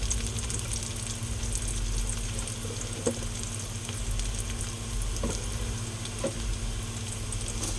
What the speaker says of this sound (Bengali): তেজপাতা, শুকনো লঙ্কা আর পেঁয়াজ ফোড়ন দিয়েছি। এবারে এটা একটু ভাজা ভাজা হলে